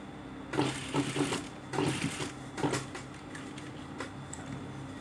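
A sewing machine stitches the armhole of a sleeveless garment in short bursts of rapid mechanical clatter, with pauses between runs, fairly quiet and close.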